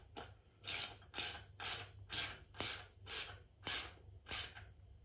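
A nut with flat and spring washers being screwed onto a bolt while assembling an industrial sewing machine table, heard as eight evenly spaced ratcheting clicks, close and fairly loud with no talking.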